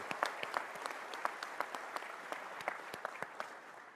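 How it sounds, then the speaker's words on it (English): An audience applauds at a Disabled American Veterans business session, with steady scattered clapping from a hall crowd that sounds fairly distant and soft, slowly fading toward the end. "I believe you deserve a large round of applause."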